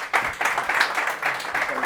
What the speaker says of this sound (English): another round of applause for Mr. Mark Steele.